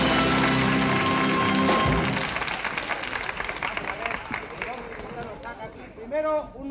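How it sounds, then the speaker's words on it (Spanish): Studio audience applause for a clown at a 1974 Christmas children's television show, a loud burst of clapping that opens over music, then thins into scattered claps under excited children's voices and shouting. "¡Un aplauso para Don Cicuta!"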